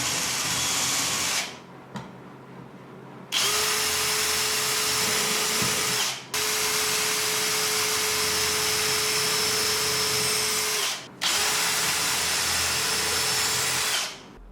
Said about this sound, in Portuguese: Mas a gente precisa fazer um pré-furo para não rachar o MDF